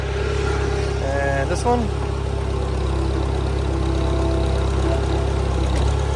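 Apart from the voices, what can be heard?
Case 580CK backhoe running, raising its outriggers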